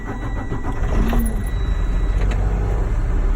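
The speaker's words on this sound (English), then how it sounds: "It's safe to start the truck." A truck's diesel engine rumbles steadily from inside the cab with the transmission in neutral and the parking brake set, a loud continuous drone with no pauses.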